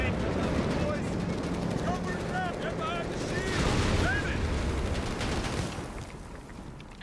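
Gunfire from a battle on an Italian beach landing in the game Company of Heroes 3: dense, continuous shooting and explosions with chirping shell sounds, under shouted voices, fading near the end.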